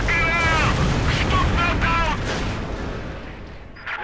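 A Panzer IV tank firing in the Company of Heroes 2 video game, booming cannon blasts amid a noisy battle, with a voice talking over the sound.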